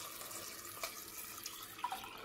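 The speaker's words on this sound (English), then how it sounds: "So I'm going to add more water to it." Water trickles and splashes quietly into a pot of rinsed chickpeas being prepared for hummus, a faint, steady pour with small drips and no talking.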